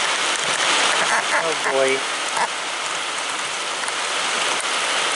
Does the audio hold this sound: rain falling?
yes